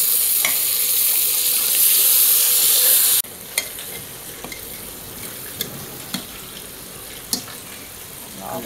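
Pork curry with tomato stirred in a pan, a loud steady sizzle for the first few seconds, then quieter bubbling with sharp scraping clicks of a spoon against the pan.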